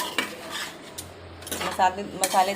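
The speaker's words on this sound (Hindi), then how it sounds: "अब बस हलवा मिक्स कर दे रहे हैं" Halwa with dry fruits is stirred in a metal pot, giving close scraping clinks and knocks of a spoon against the pan at an uneven rhythm.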